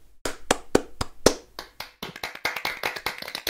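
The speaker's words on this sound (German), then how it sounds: "Nochmal für Marv klatschen, der den ganzen Server eingestellt hat." A few loud, separate hand claps at first, then a quicker burst of scattered clapping from several people, close by with no talking.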